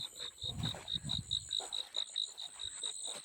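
Frogs croak in quick, regular pulses along a stream at night, a steady repeating call close by with faint insect buzz behind it and no talk.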